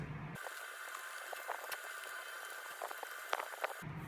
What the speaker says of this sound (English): I'll just take the right driver bit, the Torx bit, remove the screws that hold the back cover in place.